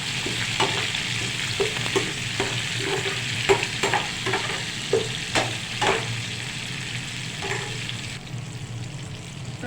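Urad dal, cumin, mustard seeds, chana dal and sliced onions tempering in hot oil: a soft, steady sizzle broken by a series of sharp spoon scrapes and clinks, close and fairly quiet.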